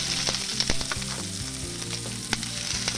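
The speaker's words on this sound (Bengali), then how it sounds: "এবার পেঁয়াজটা একটু নেড়ে চেড়ে ভাজা ভাজা হয়ে গেলে" Sliced onion frying in hot mustard oil in a pan, with a steady close sizzle and a spatula scraping and stirring at irregular moments throughout.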